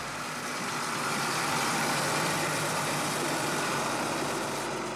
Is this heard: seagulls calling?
no